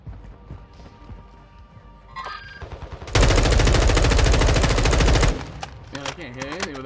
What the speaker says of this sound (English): I'm being shot at, sniper. Shooting at me.